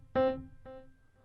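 A plucked synth note run through a delay plugin with its lo-fi mode switched on, followed by one quieter echo repeat that fades away, clean and isolated with no talking.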